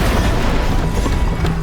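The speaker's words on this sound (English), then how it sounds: "Load the cannons and prepare to fire!" Heavy booming blasts rumble together in a dense, continuous barrage, loud and low, like cannons firing in quick succession.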